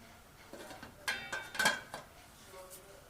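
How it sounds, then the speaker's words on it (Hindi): A lid goes onto a pot of chicken daanedaar korma after nutmeg and mace are stirred in, giving a few light metallic clinks and clatters close by and fairly faint, with no voice. "जायफल जावित्री डालने के बाद हम इसको 1 मिनट के लिए ढक देंगे।"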